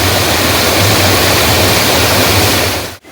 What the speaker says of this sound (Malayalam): വെള്ളം നല്ല പതഞ്ഞൊഴുകുന്നുണ്ട് കേട്ടോ